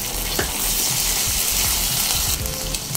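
Hot water poured into spice masala frying in oil, a loud continuous close sizzle with faint stirring scrapes throughout.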